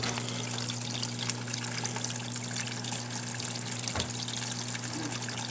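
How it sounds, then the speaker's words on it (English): Water trickles and drips down slate inside a dart frog vivarium, a steady, soft, continuous splashing with a faint hum underneath. "The water comes down. You can see it hitting the slate right there. And dripping down, and then it hits the bottom eventually."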